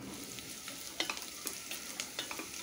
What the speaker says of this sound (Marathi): तर छान असा परतून घ्यायचा आहे कांदा।